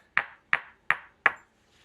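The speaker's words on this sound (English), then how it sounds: "can y'all hear that little ring to it?" Four bright, evenly spaced pings ring out as flint is struck during knapping with a hammer stone and copper, each a crisp metallic-sounding tap that decays quickly into silence.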